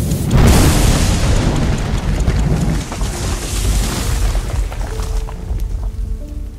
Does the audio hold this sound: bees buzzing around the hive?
no